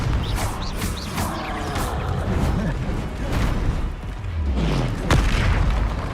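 Heavy spell-blast booms from the Confringo fire spell in Hogwarts Legacy, several loud crashing explosions in quick succession with a deep rumbling tail, plus a sharp crack near the end.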